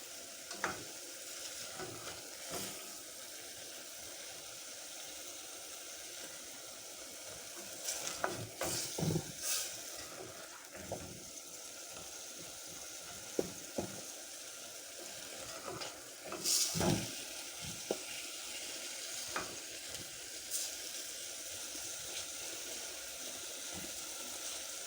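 Potatoes and tomatoes for aloo methi fry in a pan. A continuous sizzle runs under repeated scraping and knocking as they are stirred, with no one speaking.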